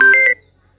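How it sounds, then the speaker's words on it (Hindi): A mobile phone gives two or three short electronic beeps in quick succession during a call at a political speech, close and clear, then silence. "माफ कीजिएगा किन्हीं का फोन आ गया था"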